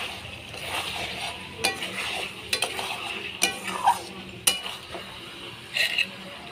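Mutton pieces being sautéed in a pot for a Sunday goat curry, with steady stirring and soft sizzling broken by sharp scrapes and clinks of a spatula against the metal, close and continuous without speech.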